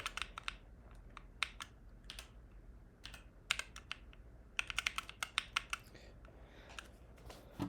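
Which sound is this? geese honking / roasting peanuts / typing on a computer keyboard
typing on a computer keyboard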